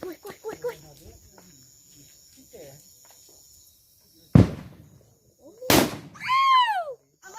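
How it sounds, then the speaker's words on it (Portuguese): Firecrackers exploding outdoors at a São João bonfire celebration, two sharp loud bangs a second or so apart, with voices talking and shouting around them. "É tão forte que a bomba explodiu até o pedaço aqui"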